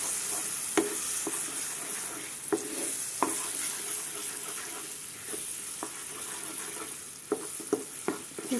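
Mango laddu mixture is stirred in two spoons of hot ghee, a soft steady sizzle punctuated by regular sharp scrapes and taps of a spoon against the pan, close by with no voices.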